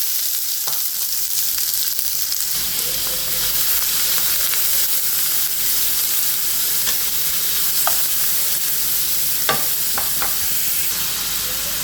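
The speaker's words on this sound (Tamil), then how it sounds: "நம்மளோட ஆனியன் ஃப்ரை ஆகுது." Two medium onions, chopped small, fry in hot oil in a pan for a mushroom pepper masala, giving a steady close sizzle throughout with occasional light stirring clicks and scrapes.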